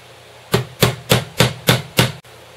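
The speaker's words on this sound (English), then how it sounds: "Take another nail, hammer through here." Hammer blows driving a nail into wood while a scarecrow is being built, six sharp, evenly spaced strikes at close range with no talk.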